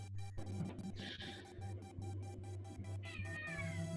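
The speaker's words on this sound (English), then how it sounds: "I think the cat likes the waiter more than" A cat meows loudly and repeatedly in a couple of drawn-out cries over a steady low hum, close and alone with no talking.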